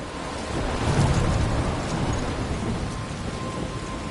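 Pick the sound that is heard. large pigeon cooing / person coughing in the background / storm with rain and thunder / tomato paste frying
storm with rain and thunder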